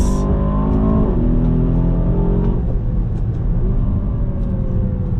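Aston Martin DBX 707 SUV engine pulled in second gear from around 4,500 RPM under throttle: a loud, continuous, deep rumbling roar with rising harmonic tones as it accelerates, heard from inside the cabin with no talking.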